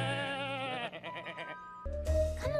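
A cartoon sheep in Puppy Dog Pals bleats in a wavering, vibrato cry, followed by a short pulsing bleat and then a louder, harsher bleat at the end, with music underneath.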